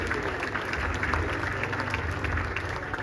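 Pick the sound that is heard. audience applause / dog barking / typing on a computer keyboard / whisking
audience applause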